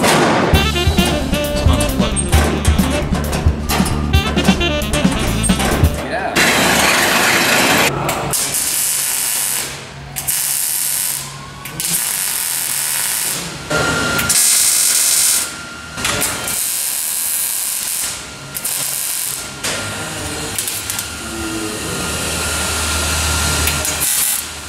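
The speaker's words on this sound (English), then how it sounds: "We're welding along here, filling in those holes with a spot weld." A spot welder works on a rusty XB Falcon car body, filling holes in the panels. The sound is a loud, harsh hissing and crackling in long bursts with short pauses between them, close up, with no talking.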